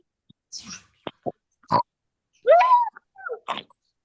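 A few short grunting oinks from a pig, close by, spaced irregularly with quiet gaps between them.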